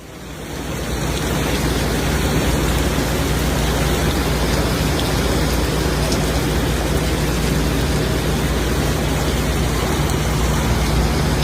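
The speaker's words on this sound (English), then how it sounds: "the skies opened up and unleashed a deluge so intense it felt like the city was underwater" Heavy rain pours down in a dense, steady downpour over New York City streets during a flash flood, a loud unbroken wash of hiss and roar that holds constant throughout with no voices.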